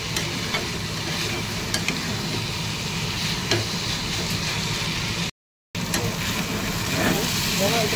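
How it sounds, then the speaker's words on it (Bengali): Gravy with potatoes, chili powder, turmeric, ginger-garlic paste, onion and tomato sizzles steadily in hot oil while being stirred, with scraping touches and one brief dropout. "গ্রেভিগুলোকে একটু লাল লাল করে ভেজে নিতে হবে।"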